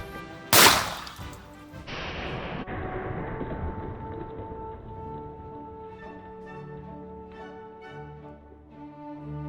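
An SKS rifle fires a single 7.62x39 round at a steel padlock, one sharp, loud close-range crack followed by a long, fading ringing echo.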